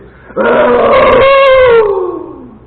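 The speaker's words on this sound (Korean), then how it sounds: "먼저 사자가 자신 있게 소리를 지르면" A lion gives a loud, close roar that swells suddenly and holds for over a second before trailing off into a fading, lower moan, with no other sound around it.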